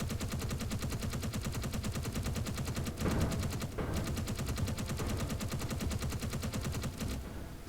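Turret gunfire in Space Engineers, a continuous rapid stream of evenly spaced automatic shots that runs for the whole stretch at moderate, distant-sounding loudness, with a slightly heavier burst partway through and no talk.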